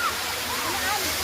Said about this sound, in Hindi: बहुत बेजोर है, पानी गिर रहा है